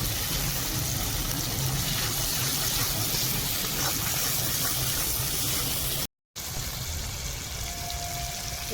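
Water poured into a pan of mustard hilsa curry in a home kitchen, a steady continuous splashing rush that runs unbroken for several seconds, briefly cuts out, then resumes, close and fairly loud.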